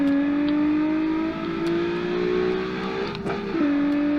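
Engine of a 200-horsepower V6 Miata in a car video game revving hard and climbing through the gears toward top speed, a loud continuous drone with pitch rising and a brief dip at a shift near the end.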